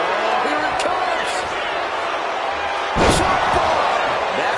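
A chop bomb body slam in the WWE 2K25 wrestling game lands with one heavy thud against steady crowd noise, and a commentator talks excitedly before and around the hit.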